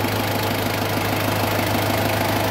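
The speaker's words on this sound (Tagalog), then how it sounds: "Tayo ko na yung makina ulit." A car engine idles steadily with a low, constant hum and faint rattling vibration, running unchanged throughout with no voices; the radiator coolant is boiling.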